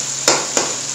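Spiced masala for an aloo, matar and gajar mixed vegetable dish sizzles in a pan, a steady close frying hiss broken by two brief stirring scrapes.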